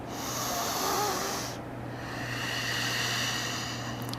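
Deep, slow breathing during a yoga flow, a long steady airy rush close to the microphone that eases off midway and then continues, with no talking.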